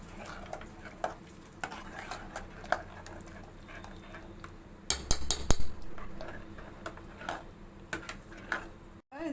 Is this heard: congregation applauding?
no